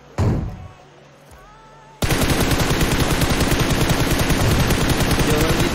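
Rapid automatic gunfire from a duo-versus-squad shooter video game: a short burst near the start, then from about two seconds on a loud, continuous, tightly spaced stream of shots.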